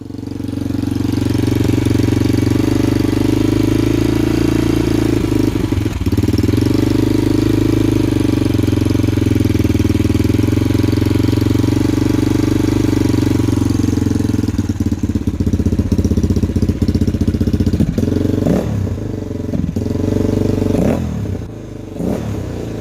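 A Honda XR400 dirt bike engine runs during a rebuild while its carburetor jetting is checked for running rich or lean. It makes a loud, close, steady idle, with some clatter and small revs toward the end.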